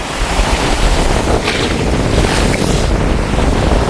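Storm waves crashing onto the shore at Keerimalai amid strong wind, giving a loud, continuous roar of surf and wind buffeting the microphone, with no talk.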